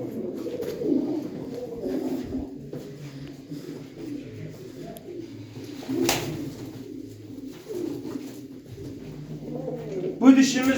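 Pigeons of the boz dumanı and gök denekli breeds coo steadily in a loft, their low, throaty calls overlapping continuously with a few sharper sounds near the end.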